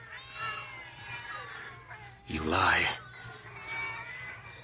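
Cats meowing and wailing in an old-time radio drama, drawn-out caterwauling cries with one loud, harsh yowl in the middle, heard beneath a man's spoken dialogue.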